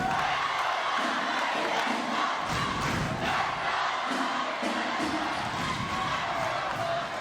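A loud crowd roars and cheers nonstop inside the Compton gym during a CIF boys basketball playoff game against Tustin, with scattered shouts and whoops rising over the steady din.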